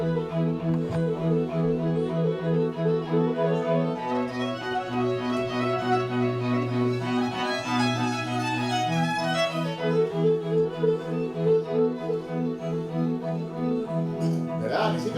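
An ensemble imitates a flowing mountain stream in Vivaldi's Spring at a didactic toy-instrument concert, with a steady low murmuring figure under quick, rippling higher runs that continue without break.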